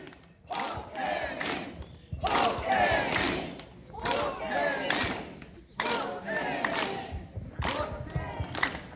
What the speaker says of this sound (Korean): 올라오는 고태민 후보에게 큰 박수와 함께 고태민 후보의 이름을 함께 외쳐주시면 감사하겠습니다